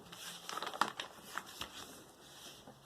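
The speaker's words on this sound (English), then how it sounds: "the best thing to do is to start folding rather than crumpling" Japanese momigami paper being folded and kneaded by hand, giving soft crinkling and crushing rustles in irregular bursts, fairly faint and close, with no speech.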